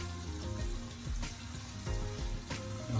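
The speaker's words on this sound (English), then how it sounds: "after that 20 seconds of frying up your seasoning, just gonna give it a stir" Seasoning frying in a pan for sweet and sour pork gives a steady, fairly quiet sizzle, with occasional stirring scrapes and no voices.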